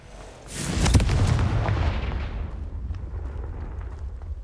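Confringo fire spell explosion in Hogwarts Legacy, a single heavy blast that bursts in sharply and then rumbles and decays over several seconds, loud and close.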